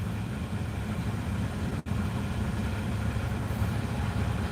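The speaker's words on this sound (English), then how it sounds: "You can see how busy it is with the trucks coming in and out all day." Trucks idling at a busy truck stop make a steady low diesel rumble that carries on throughout, with a brief dropout near the middle, and no one speaks.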